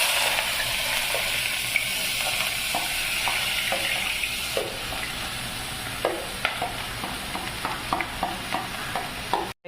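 Chopped onion and green chilies sizzle steadily in hot oil, a constant frying hiss broken by repeated clicks of a spatula stirring in the pan, close and fairly loud, with no talking.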